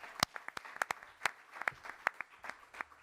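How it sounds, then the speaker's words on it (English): Scattered hand claps from a small audience at a press conference, sharp, separate and uneven rather than a full roar, fairly distant and fading out over a few seconds. "Let's give them a strong round of applause."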